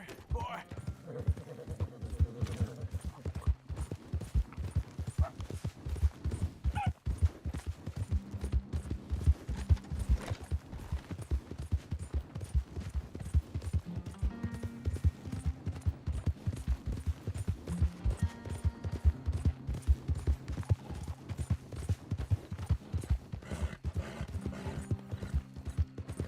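Horse hooves clip-clop steadily in Red Dead Redemption 2, a dense continuous trot with occasional whinnies and game sounds layered over it.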